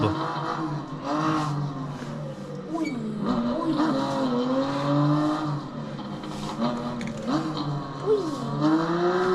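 A BMW M4 drifting in the Assetto Corsa racing game: a loud, steady engine roar with continual revving that rises and falls in pitch, with hints of tire squeal throughout.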